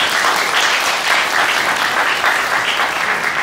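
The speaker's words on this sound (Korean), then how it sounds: "여러분 뜨거운 박수 부탁드리겠습니다" Wedding guests applaud in a hall at a Gwangju wedding ceremony, a dense, loud, steady wash of many hands clapping throughout with no voices over it.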